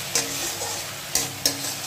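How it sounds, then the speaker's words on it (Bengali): Masala spice paste fries in a pan with a continuous close sizzle, broken by three sharp clanks of a spoon stirring against the metal. "মশলাটা একটু কষিয়ে নিতে হবে"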